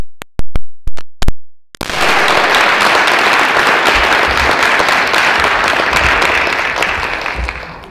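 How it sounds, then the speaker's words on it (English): Several sharp, isolated claps ring out in a room, then an audience at a school talk by an Alaska senator bursts into sustained, full applause that holds steady before tapering slightly at the end. "let's give him a round of applause"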